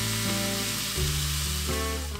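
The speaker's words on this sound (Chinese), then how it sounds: "首先热油，加入洋葱炒香" Onions sizzling in hot oil at the start of a Korean-style tofu soup, a loud, close, continuous hiss with a low steady hum beneath, no talking.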